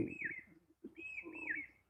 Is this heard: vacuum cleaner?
no